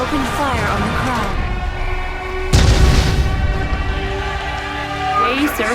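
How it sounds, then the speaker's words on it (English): Police open fire on a protesting crowd at the Capitol in Deus Ex: Human Revolution, with a heavy boom that cuts through a din of crowd noise and sirens, followed by continued rumbling chaos. "Police have opened fire on the crowd."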